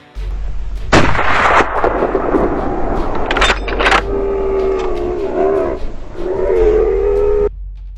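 Gunshots fired while hunting a herd of wild boars on a farm and mountain slopes, loud sharp reports near the start and again around the middle, followed by a sustained engine-like drone with no talking.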